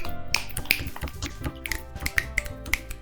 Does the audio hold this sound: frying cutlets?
no